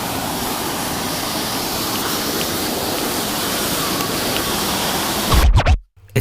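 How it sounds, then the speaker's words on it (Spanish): A waterfall near Cafayate pours in a steady, dense rush close to the microphone, ending in a brief thump and sudden cutoff. "Esta vez la cascada es un poco más grande."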